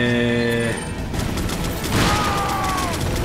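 Machine-gun fire in the video game Resident Evil 4, a dense, loud burst of rapid automatic shots over game noise, with a brief tonal effect at the start.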